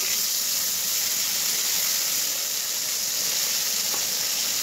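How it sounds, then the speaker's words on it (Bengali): Slices of eggplant (brinjal) fry in hot oil, giving a steady close sizzle and hiss that holds at an even level the whole time, with no talking. "তার আগে বেগুন ভাজাটা উল্টিয়ে নিই। তো হয়ে আসছে প্রায় ভাজাটা।"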